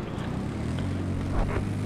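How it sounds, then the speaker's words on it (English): A jet in the video game Battlefield 4 passes overhead as a low, continuous roaring drone that swells slightly louder near the end, with no voices present. "It's the Jet."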